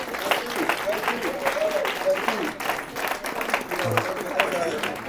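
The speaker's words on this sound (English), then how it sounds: "Let's give a round of applause" Crowd at a Ward 5 community meeting clapping to welcome the mayor, a steady wash of applause with scattered cheers and voices mixed in throughout.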